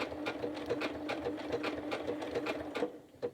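A sewing machine stitches a flower appliqué block, a rapid, even ticking run of needle strokes with a soft motor hum beneath, close and steady, briefly pausing near the end, with no talking.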